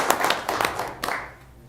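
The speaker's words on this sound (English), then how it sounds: "A huge round of applause for these 2." Short burst of hand clapping from an audience at a city council meeting, several quick close claps that fade out after about a second.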